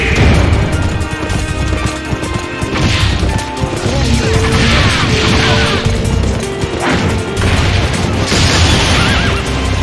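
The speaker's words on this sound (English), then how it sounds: "They're bombing us again!" Bombardment in Sengoku Basara: Samurai Heroes, heavy crashing blasts and thuds layered over a constant loud battlefield roar, with repeated impact bursts and no clear talk.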